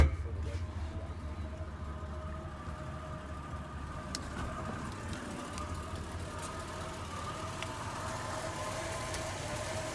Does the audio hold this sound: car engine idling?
yes